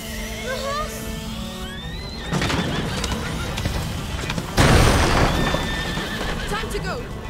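Horse in the video game A Plague Tale: Innocence neighs loudly with a shrill, wavering whinny, followed by bursts of noisy action and shouting voices.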